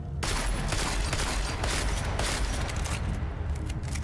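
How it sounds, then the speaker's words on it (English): A tactical shotgun firing in Deus Ex: Mankind Divided, loud repeated blasts in quick succession across a few seconds, close and dense with no talk. "Tactical shotgun. Boom."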